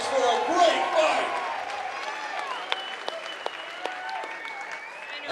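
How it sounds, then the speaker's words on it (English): Crowd applause for two fighters after a catchweight 150-pound bout at a Chosen Few Fighting Championship event, a dense wash of clapping that swells early and then thins into scattered claps, with cheering and voices mixed in. "let's one more time give both of these fighters a huge round of applause for a great fight"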